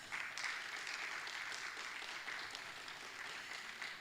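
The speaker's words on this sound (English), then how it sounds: "Can we give her another applause?" Audience applause at an investment summit and demo day, steady dense clapping filling the hall for the whole stretch, fairly soft and distant, with no one talking over it.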